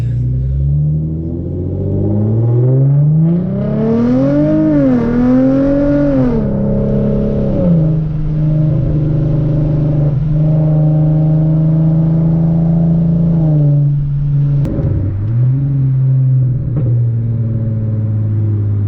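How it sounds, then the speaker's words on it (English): Hyundai Genesis Coupe with an ISR race exhaust accelerating hard in first gear, a loud close rumbling exhaust note climbing in pitch, easing off, then holding a steady drone before a final dip; no talking. "Shift it on down into first gear, sport mode, AC off, let's get it."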